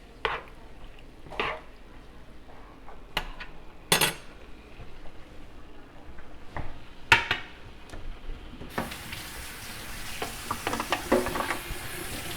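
Pepper steak with a cornstarch sauce simmering in a pan, with a soft steady sizzle broken by occasional clinks and scrapes of a utensil against the pan.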